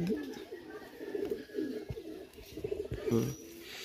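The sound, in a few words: Pakistani high-flyer pigeon cooing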